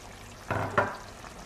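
Chillies, salt and spices frying in a pan are stirred twice, two short scraping sizzles a moment apart, close and fairly soft against a quiet background.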